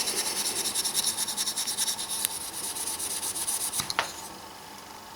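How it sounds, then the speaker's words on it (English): Soft wire wool is rubbed over stainless steel boat fittings to polish them, making quick, rhythmic scratchy strokes close by, with a couple of sharper scrapes near the end. "just going to polish up these. Look, quite straightforward. Little bit of soft wire wool."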